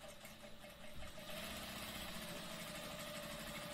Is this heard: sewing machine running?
yes